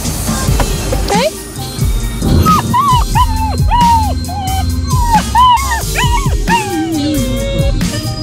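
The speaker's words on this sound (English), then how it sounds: "So we got a little puppy." A little puppy buckled into a car whimpers and yips in repeated high, rising cries, close and loud, while people talk over and between the cries.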